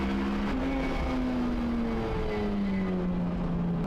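Racing cars, including a Honda Civic, run nose to tail on a circuit into a hairpin, with a steady engine drone whose pitch falls slowly as they brake, heard at a distance with no voices.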